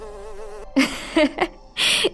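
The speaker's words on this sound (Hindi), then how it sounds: "उसे काफी ज्यादा मच्छर परेशान करने लगते हैं" A close, wavering mosquito whine hums for a moment indoors beside a woman sleeping on the floor, then gives way to several sharp slaps and bursts of noise.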